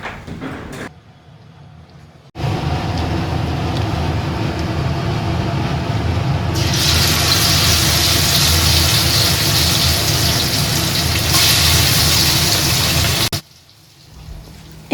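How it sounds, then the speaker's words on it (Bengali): Chicken pieces fry in hot white oil, a loud, steady broadband sizzle that runs unbroken for about eleven seconds, swelling brighter midway, after quieter opening moments. "সাদা তেলটা ভালোভাবে একটু গরম হয়ে এলে এবার আমি এক এক করে চিকেনগুলোকে ভেজে ভেজে তুলব"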